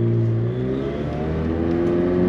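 A 765-horsepower McLaren engine, warmed up, revving loud and close with a steady roaring drone that holds its pitch, with no one speaking over it.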